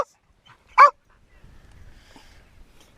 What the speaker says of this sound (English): Obviously we've stopped moving, so the dog's off on one again.